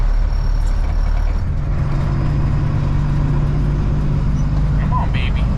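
A vintage service truck's engine labours uphill in gear on a road trip, a loud, constant low rumble running the whole time while people talk inside the cab.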